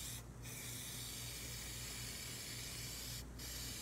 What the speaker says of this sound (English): You see, when I go off the side, I stop spraying.